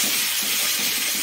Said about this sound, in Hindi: अब इसे हम आधा लहसुन का पेस्ट डाल देंगे। फ्राई कर लेंगे एक मिनट तक।